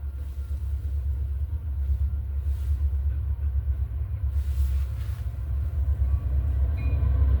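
Heavy freight train with seven engines rumbling steadily past a crossing at close range, a continuous low roar of rolling rail cars with no talking.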